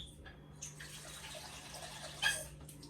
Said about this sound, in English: So I am gonna go with 1 more cup of water.